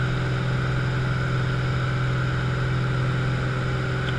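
A Cessna U-206G Stationair's piston engine drones at full climb power, a steady loud hum with a strong low tone that holds without change from start to finish and no talking.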